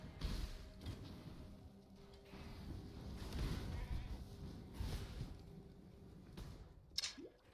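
A goat enemy bleats in Path of Exile 3.13 during the Ritual League, a faint bleating cry amid low game noise, thuds and a short sharp effect near the end.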